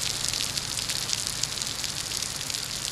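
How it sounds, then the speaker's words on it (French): Heavy rain pours down in Singapore, a dense continuous hiss and patter of drops on surfaces, steady and fairly close with no voices. "c'est la grosse pluie là aujourd'hui?"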